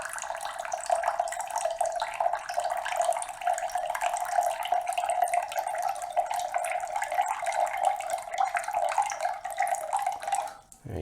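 Water streams steadily out of a DIY reverse osmosis system, a constant splashing hiss that runs unbroken for about ten seconds before briefly faltering at the end, close and fairly loud with no talking.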